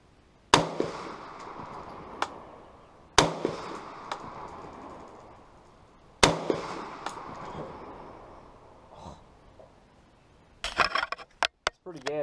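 A Tavor SAR rifle fires unsuppressed, three loud sharp reports spaced a few seconds apart, each with a long echoing tail outdoors, followed by a quick cluster of sharper cracks and clicks near the end.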